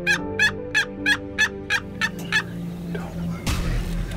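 A rapid series of about eight sharp, rattling wild turkey gobbles at a steady rhythm, fairly close, followed by quieter outdoor rustling and a brief thump.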